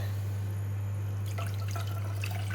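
Water poured into a soup pot holding leftover garlic and sauce after chicken was taken out, a steady splashing pour over a constant low electrical hum in a home kitchen.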